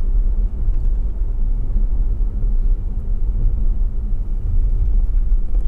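Steady low engine rumble and road noise fill the interior of a car on an Uber ride, continuous and fairly loud throughout with no clear talk.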